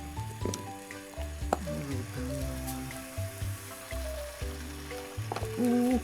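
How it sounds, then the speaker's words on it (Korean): Ramen noodles boiling in a pot of carbonated water give off a steady, close sizzling and bubbling, with a low tonal hum running beneath it. "모르고 탄산수 넣었는데 더 잘 끓는 것 같은 이 느낌 뭐죠?"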